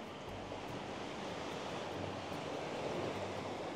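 Waves wash onto a small, shallow beach on Koh Kradat island in Thailand, a steady broadband surf roar that holds constant throughout with no distinct breaks or voices.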